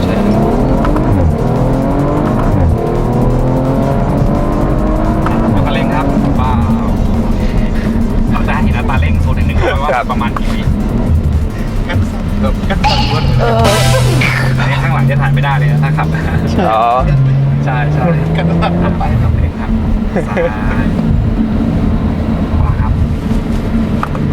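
A family car driven hard on the road, engine revving and pulling strongly with rising pitch sweeps and some tire noise, loud and close throughout while people talk over it inside the cabin.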